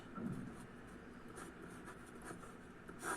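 Chalk or marker scratches steadily across a board during a lecture, a close, continuous run of soft scraping strokes with brief pauses and no talk over it.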